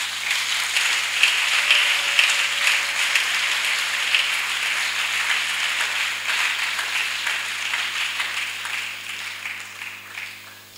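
A church congregation applauds steadily in a hall, a dense wash of clapping that holds for several seconds before tapering off.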